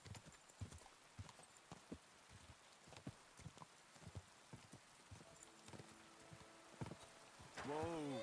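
Horse hooves clip-clop at a steady walking rhythm in the medieval video game Kingdom Come: Deliverance, quiet and fairly close, ending in a louder whinny-like cry.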